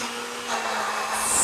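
An electric blender whirs up as it blends fruit and Prosecco, a close motor whine that rises in pitch and loudness over a second and a half.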